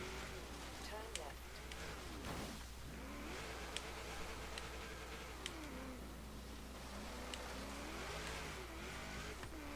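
Car engine and tires in the video game Forza Horizon 3 rev and shift continuously, with occasional squeals, beneath someone talking throughout.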